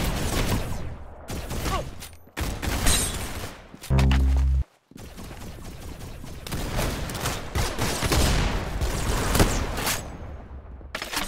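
Rapid bursts of gunfire in the Roblox game Arsenal, loud dense volleys with brief gaps and one sustained booming blast midway, alone without speech.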